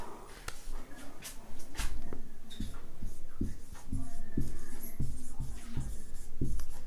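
Chalk or a marker taps and scratches across a classroom board during a class 12 physics lesson, sounding as a steady run of close, rhythmic strokes and knocks with faint room noise behind.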